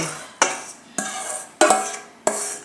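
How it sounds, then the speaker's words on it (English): Crust mixture dumped into a 10-inch pie plate for a no-bake pumpkin pie, heard as four sharp clattering impacts at roughly even intervals, each fading quickly, close and fairly loud with no talk. "We're going to dump all of the crust mixture into"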